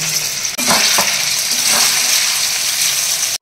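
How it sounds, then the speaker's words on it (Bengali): Soybean chunks fry in hot oil in a wok for fried rice, giving a loud, steady sizzle with a few brief stirring scrapes and clinks near the start. No voices. "এবার সোয়াবিনটাকে ভেজে নেবো।"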